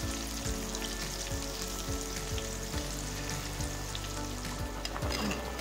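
Food boiling and frying on a stove for a Ramadan meal, a steady close sizzle and bubbling with soft stirring clatter recurring roughly every second, heard alone with no talk.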